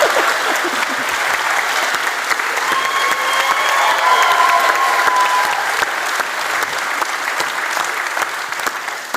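Sustained audience applause with scattered cheers and whistles greets the hosts at a live podcast's 500th episode taping at the Capitol, a dense clapping roar holding steady for several seconds.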